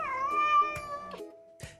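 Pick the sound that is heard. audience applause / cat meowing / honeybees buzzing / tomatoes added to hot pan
cat meowing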